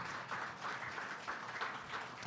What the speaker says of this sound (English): yeah, how about a round of applause?